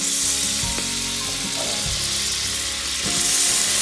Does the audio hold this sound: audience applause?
no